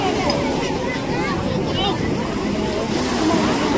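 Sea waves wash and slosh against the rocky shore at Kovalam beach in steady, broadband surges, with a boat engine and a crowd's murmur and chatter mixed in close by.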